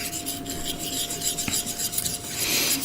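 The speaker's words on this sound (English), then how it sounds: "I'm going to mix it up, and as like everyone said, it should be the consistency of milk" A thinned mixture being stirred to the consistency of milk, with a continuous soft scraping and rubbing under a faint steady tone, close and even throughout.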